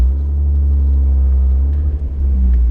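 A BMW 325i convertible engine and exhaust idling and revving close by, a loud deep rumble holding steady with a slight dip and rise near the end.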